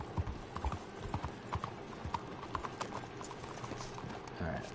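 Horse hooves clip-clop in uneven steps on the streets of Saint Denis in the video game Red Dead Redemption II, moderately close, with a faint whinny and a voice talking over them.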